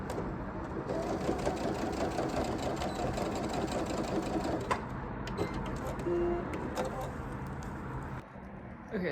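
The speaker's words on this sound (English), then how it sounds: "I'm sewing a pair of pants and I'm using a green thread" Sewing machine stitching a pair of pants with green thread, a steady close mechanical whir running continuously with a brief pause near the end.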